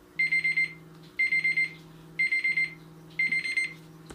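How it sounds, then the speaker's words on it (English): A kitchen timer for a pizza goes off in a quiet room with four evenly spaced bursts of rapid electronic beeps, each burst a quick cluster of high tones repeating about once a second. "my timer,"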